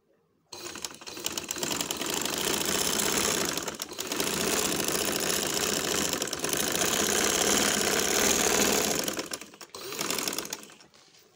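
A home sewing machine runs a straight stitching seam in long, steady whirring stretches with brief pauses between runs, close and fairly loud.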